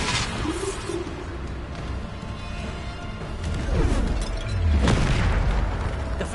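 A Bombarda spell from Hogwarts Legacy detonates in loud booms with whooshing sweeps, a heavier blast landing near the end over continuous game ambience.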